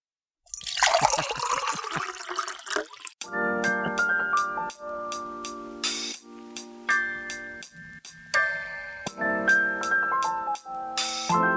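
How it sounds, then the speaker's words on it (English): Coffee pours steadily into a cup with a trickling, splashing flow, then settles into a run of soft ringing chimes and clinks. "Let's pour the coffee even though I don't drink it."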